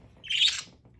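A pet budgie gives a single short, bright chirp, close and clear against a quiet room with faint low background sound.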